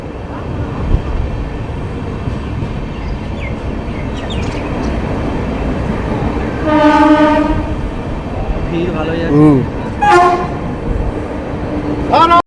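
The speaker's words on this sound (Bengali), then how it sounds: "মুর্শিদাবাদ জংশন রেল স্টেশনে ঢুকছে সাইরাং কলকাতা এক্সপ্রেস" Sairang Kolkata Express passenger train pulling into Murshidabad Junction station, its horn sounding in a long steady blast and then several shorter toots over continuous rumbling rail noise.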